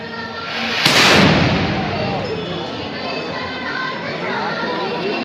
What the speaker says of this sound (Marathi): अंबाबाई मंदिर परिसरात तोफेची सलामी दिली गेली